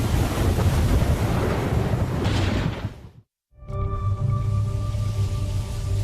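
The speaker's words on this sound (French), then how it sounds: "Tous ces éléments combinés créent une mer très instable et agitée avec des vagues scélérates." Rough, agitated sea in the Bermuda Triangle with rogue waves: loud roaring surf and wind rush, broken by a brief silent gap, then resuming beneath a steady tonal hum.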